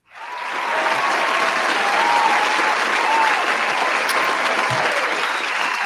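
A large crowd at a wrestling post show breaks into applause, a loud, steady wash of clapping and cheering that rises quickly and holds for several seconds without any talk over it.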